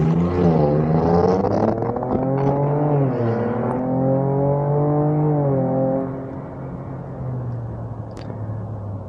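A 2023 Ford Ranger Raptor pickup engine in loud exhaust mode revs up and down loudly and close, its throaty exhaust rising and falling in pitch before settling to a deep idle.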